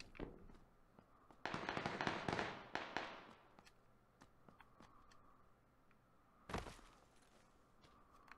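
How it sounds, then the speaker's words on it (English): Distant gunfire from a shotgun or sniper rifle rings out as a few sharp, echoing cracks: one burst early on that rolls out for a couple of seconds, then a single fainter report later, with no talk. "I can hear someone shooting shotgun over there."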